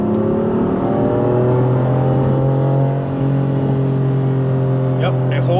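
2019 BMW M4 coupe engine holding a gear in Sport Plus mode, a steady smooth drone heard from inside the cabin, rising slightly in pitch, with a brief dip near the end.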